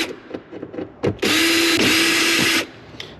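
A power drill whirs in a steady run of about a second and a half, backing out Phillips screws from the cargo light cover of a third-gen Toyota 4Runner, with light handling clicks before and after.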